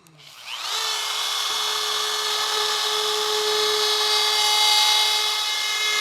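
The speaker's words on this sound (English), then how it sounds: "You can see how easy the carbide bit cuts through aluminum" A router fitted with a carbide bit spins up quickly and bites into aluminum, holding a loud, steady high-pitched whine with a shrill metallic edge for several seconds and no speech.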